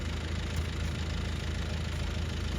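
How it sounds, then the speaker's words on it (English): A tractor engine idles steadily on farmland as fencing work begins, a low, even mechanical rumble with a faint knocking pulse that holds at a constant level throughout. "It's David in his tractor."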